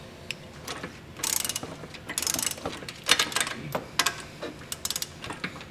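Ratchet wrench fitted with a 3/4 inch socket snugging down bracket bolts for a Roadmaster steering stabilizer on a 2021 Jeep, giving repeated quick clicking bursts in close, uneven runs, with no talking.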